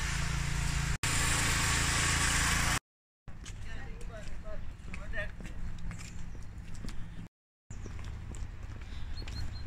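A snow-clearing machine works in a Moscow schoolyard, its engine a steady rumble mixed with street noise and footsteps, with people talking over it and two short dropouts.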